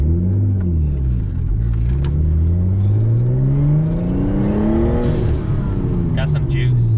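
A stock RB20-powered Nissan Skyline accelerates hard, its engine note climbing steadily through the revs in a loud, continuous rumble heard from inside the car, with rising harmonic sweeps and a brief shift partway through.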